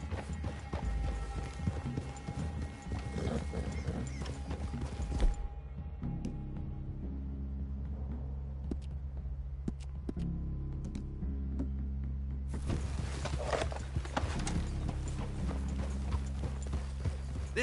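Horses' hooves clip-clopping in a PS4 Western video game, a dense run of rhythmic hoofbeats that thins to a few steps with low ambient rumble, then picks back up near the end.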